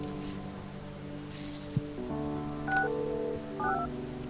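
Telephone dialing tones from the Project Highrise building game, a few short electronic beeps in quick succession after a soft click, over a low steady hum.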